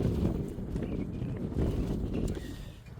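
Steady low wind rumbles and buffets a microphone, continuous and fairly loud, with gusts swelling and easing, no voices.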